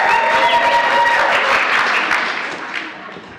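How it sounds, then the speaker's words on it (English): At the British Dressage AGM and special awards, the room breaks into loud, sustained applause for an award recipient, with a voice briefly audible early on, before the clapping gradually tapers and fades toward the end. "it's a very loud clap for Lottie."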